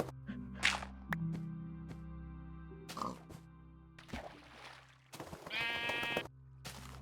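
Sheep in a blocky sandbox video game give several short, separate bleats, faint and spread out over quiet background tones and other small game sounds.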